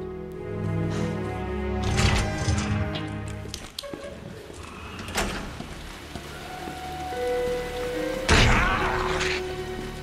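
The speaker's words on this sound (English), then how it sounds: "The rain blocks out the sound of your footsteps." Steady rain falls in the Resident Evil 2 remake, a continuous hiss with scattered thuds and sharp impacts breaking through.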